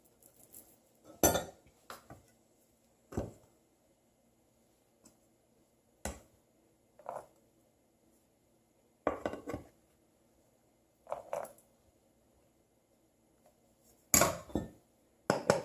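A measuring cup full of flour is tapped on a kitchen counter in several sharp, separate knocks spaced a second or two apart, with brief clinks and quiet pauses between them.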